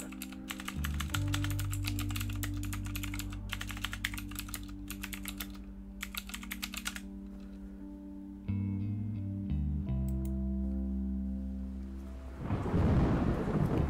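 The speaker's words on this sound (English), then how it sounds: "turn that thunder down" Thunderstorm audio plays from a rain website while computer keys clatter over a low electronic hum, then a deep, loud thunder rumble with rain swells up at the end.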